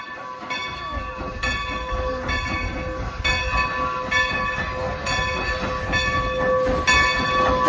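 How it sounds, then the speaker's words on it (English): Strasburg Railroad train rolling into a station, a steady loud rumble of wheels and cars with a sustained tonal hum and repeated rhythmic clatter throughout, no talking. "please stand back behind the yellow line as the train comes into the station"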